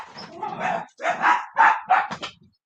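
Dogs bark in a short series of sharp, close yaps, about five distinct barks in quick succession with brief gaps between them.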